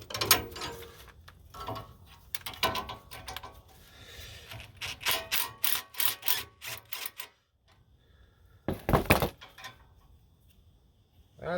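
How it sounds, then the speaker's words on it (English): Impact wrench spinning brake caliper bolts out of a Toyota Tundra's front brakes, heard as repeated short mechanical rattling bursts, near and fairly loud, with pauses between runs and a final sharp burst after a quiet stretch. "I'm going to spin them out with the impact here"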